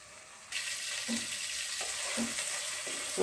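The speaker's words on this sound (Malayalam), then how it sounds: "ഇത് നന്നായിട്ട് വീണ്ടും ഒരു അഞ്ച് മിനിറ്റോടെ ഇങ്ങനെ ഇതിനകത്ത് കിടന്ന് ഫ്രൈ ആവും" Chicken frying in sauce for a homestyle chilli chicken, a steady broadband sizzle that rises abruptly after a quiet start, with a few faint scrapes and clinks of stirring along the way.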